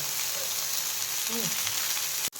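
Small chicken reshmi kebab pieces frying in a little oil in a pan on a gas stove, a steady close sizzle throughout, ending in a short sharp knock.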